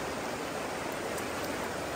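At Agate Falls, Michigan, a clear stream pours past in a constant, full roar of moving water, steady and close, with nothing else over it.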